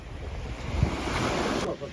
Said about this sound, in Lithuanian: Štai ten yra jūra.